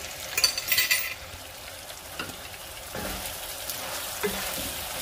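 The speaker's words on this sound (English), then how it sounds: "I'm gonna continue to brown and saute everything for another 5 minutes" Beef and potatoes browning and sautéing in a pan for Tex-Mex carne guisada. A moderate sizzle carries a few sharper bursts and stirring scrapes near the start, then settles into a softer, steady hiss.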